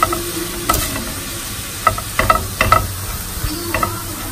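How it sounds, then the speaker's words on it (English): Stirring a Korean side dish in a hot pan after soy sauce goes in, with a steady low sizzle broken by scattered scraping and clacking stirs, close and fairly loud, with no talking. "stir again."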